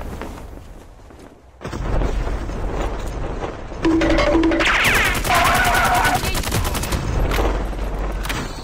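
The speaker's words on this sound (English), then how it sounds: "Here is my first COD Season 7 gameplay with a new Striker 45 SMG." Rapid automatic gunfire from a Striker 45 SMG in the mobile shooter Call of Duty Mobile, loud bursts of fast shots with booms and game effects layered under faint speech.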